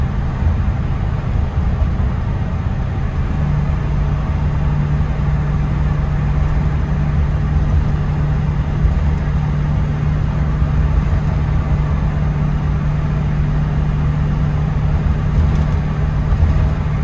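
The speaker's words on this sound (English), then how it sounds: "I think I hear more tire noise than anything." A 1979 Chevy K10 4x4 squarebody pickup with a 400 engine cruising down the road, giving a steady, continuous rumble of tire and road noise with a low drone, unbroken for the whole stretch and with no talk.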